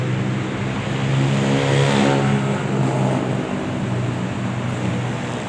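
Heavy traffic on a busy road near a KFC in the Nawamin area of Bangkok, a loud continuous roar of cars passing close by, swelling and easing as vehicles go past, with no talking.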